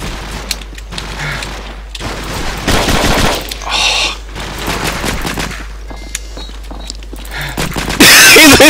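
Rapid bursts of gunfire crack through an indoor killhouse training course, repeated volleys of close shots in quick succession with a loud burst at the end, and faint voices between.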